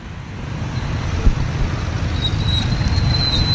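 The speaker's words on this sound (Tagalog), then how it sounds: "Normal traffic situation at Goroldo Road." Steady road traffic on Gorordo Road in Cebu, Philippines, with car and bus engines rumbling close by, one sharp knock partway through, and a high tonal whine rising near the end.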